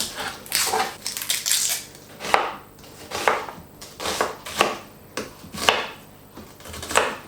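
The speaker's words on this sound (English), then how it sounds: "I need to peel and chop my onions" Onions being peeled and chopped on a board for Greek moussaka, a run of sharp knife strikes in irregular bursts with short pauses between, close and clear with no talking.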